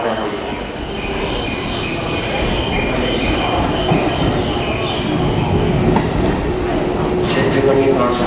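A JR East E233 series 0 train pulls into a station with a continuous loud rumble, wheel noise and faint squeals close by, while a station announcement voice sounds faintly underneath.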